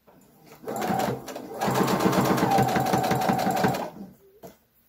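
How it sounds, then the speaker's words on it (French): A sewing machine stitches a curve on a baby bodysuit in short bursts, with a brief run, a pause, then a longer steady stretch of rapid needle clatter close by, ending in quiet handling. "Quand c'est des courbes, vous cousez par 2 cm à chaque fois."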